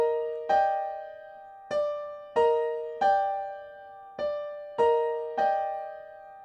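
Piano chords, seven struck chords played alone in a slow, uneven rhythm, each ringing and decaying before the next, close and clear.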